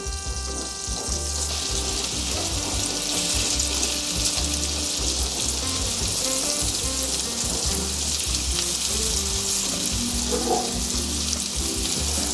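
Meatballs sear in a pan of butter and avocado oil, giving a steady, loud, close sizzle and crackle that runs unbroken from start to finish with no talking.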